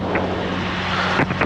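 An aircraft engine running at about 4,700 RPM with a rotor overhead drones steadily with a low harmonic hum, close and loud, mixed with rushing wind noise.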